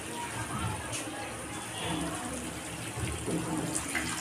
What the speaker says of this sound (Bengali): কষা হয়ে গেছে, আমরা এবার একটু জল অ্যাড করব।